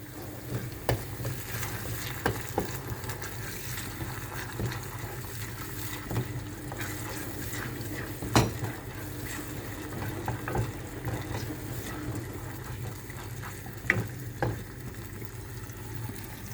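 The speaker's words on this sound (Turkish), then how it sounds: "soğanımla biberimi kavurdum" Onions and peppers fry in a pan with a continuous low sizzle, broken by occasional stirring scrapes and clinks of a utensil.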